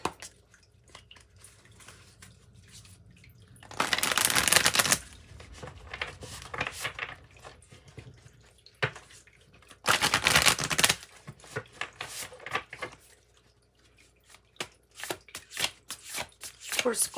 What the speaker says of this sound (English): Shuffle this one more time too.